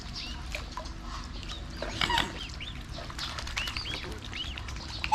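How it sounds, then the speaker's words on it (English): Ducks at a bird farm in Chachoengsao, Thailand, giving scattered quacks and calls amid a busy mix of other birds, wing flaps and outdoor noise, moderately faint and without talk. "The little cute ducks are coming."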